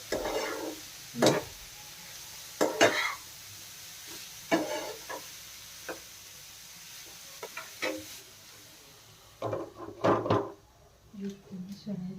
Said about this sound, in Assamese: আমি অকণমান লৰাই দিওঁ আকৌ